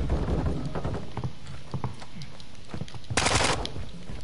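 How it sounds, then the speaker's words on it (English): Gunfire crackles in a Call of Duty: Modern Warfare 2 multiplayer match: scattered, irregular shots and short bursts at mid distance, then a louder, harsher burst of fire near the end. "who's shooting at me?"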